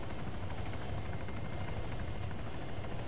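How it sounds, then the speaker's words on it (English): Helicopter hovering in the Arma 3 video game, a steady, loud, continuous rotor and engine drone with deep low thumping, unchanging throughout with no talk. "the chopper is pretty much hanging around in the air"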